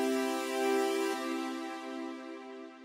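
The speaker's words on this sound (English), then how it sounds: "And then there's Valhalla Room, which is my favorite like general use reverb" Sustained tonal notes are washed in Valhalla Room reverb, a general-use reverb plugin, with a soft, lingering tail that slowly fades; no talking.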